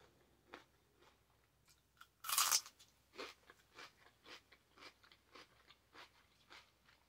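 Fresh celery stalks bitten and chewed up close, one loud sharp crunch followed by a steady run of softer, rhythmic crunching chews in a quiet room.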